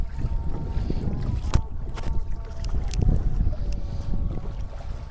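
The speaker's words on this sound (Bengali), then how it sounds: "জোয়ারের টানও লেগেছে, দেখতে পাচ্ছ নৌকা কাঁপছে, অল্প অল্প ঢেউ শুরু হয়ে গেছে" A wooden fishing boat on the Hooghly river rocks as small tidal waves begin, giving a low, steady rumble of wind and water with occasional soft knocks and creaks of the hull.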